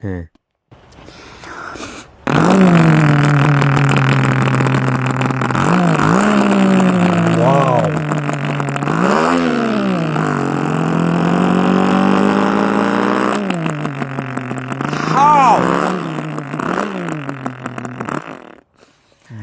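A voice imitates a Suzuki Samurai motorcycle engine, a long buzzing drone that revs up and down in repeated swells, close and loud.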